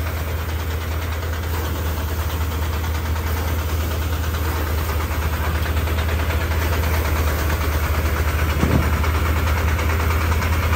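A paddy threshing machine's engine runs steadily at a constant drone, loud and close, with no change in pace and no voices.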